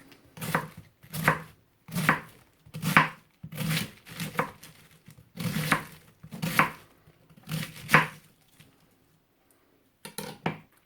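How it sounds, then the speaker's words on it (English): Knife chopping cabbage for sauerkraut on a board, a steady run of about a dozen close, crisp thuds in an even rhythm, a short pause, then a few more quick chops; no talking. "Chop them as large or as small as you like."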